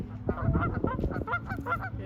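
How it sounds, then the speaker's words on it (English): Geese swimming on water honk repeatedly at close range, a quick run of overlapping calls with no talk. "Enjoys the geese. So beautiful"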